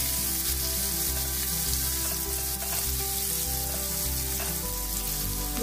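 Cumin seeds and chopped coriander sizzling in melted butter in a pan, a close, continuous crackling fry at an even level with no talk.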